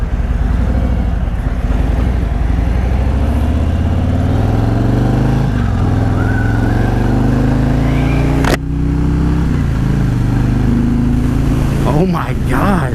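2017 Harley-Davidson Road King Special motorcycle accelerating, a loud deep engine roar climbing in pitch through gears with a brief shift gap, heard close with wind rush throughout.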